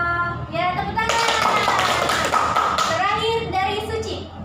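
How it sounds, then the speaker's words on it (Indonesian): Children clapping hands in a fifth-grade classroom during a music lesson, a short burst of bright applause rising and fading over a few seconds, mixed with a teacher's voice and kids' chatter. "Ya, tepuk tangan."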